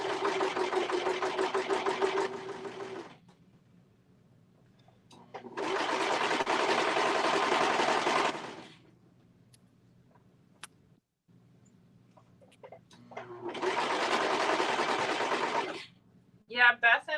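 A serger sewing machine stitches a waistband in three steady humming runs of about three seconds each, with quiet pauses between them and a few clicks at the end.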